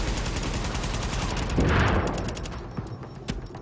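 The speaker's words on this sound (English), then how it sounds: "No, I'm gonna die because there's a guy shooting me." Gunfire in the video game The Division, a steady stream of close, rapid shots with a heavier burst near the middle, then scattered single cracks as the firing thins out.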